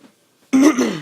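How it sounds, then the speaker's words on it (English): Single short, close throat-clearing cough from a man telling a story, one rough burst after a moment of near silence. "Sorry, I got a bit of a cough."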